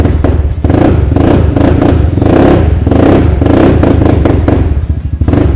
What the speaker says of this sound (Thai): อ่ะก็จะประมาณนี้เสียงก็จะใสกว่านะสำหรับท่อที่เป็นแบบฟูลไทเทเนียม